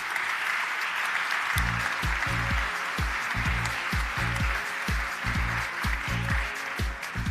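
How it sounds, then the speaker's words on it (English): An event audience claps steadily at a founders' conference, dense applause continuing throughout while low rhythmic music thumps beneath it. "That's your applause."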